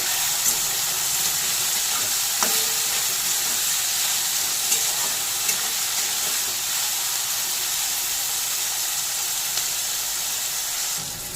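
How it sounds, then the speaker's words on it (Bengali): Beans and carrots fry in hot oil for a vegetarian fried rice, a steady loud sizzle and hiss running throughout with a few faint clinks of stirring. "তেল গরম হয়ে গেছে এবার বিনস গাজরগুলো দিয়ে দেবো"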